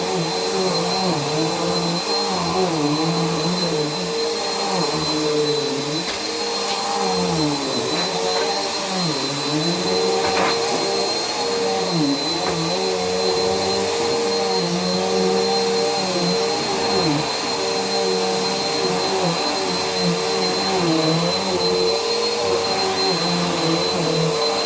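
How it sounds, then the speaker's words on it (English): A vacuum cleaner running continuously through a bedroom, a loud steady whine and roar with shifting pitch as it moves back and forth, no voices. "Gonna be vacuuming through the sides."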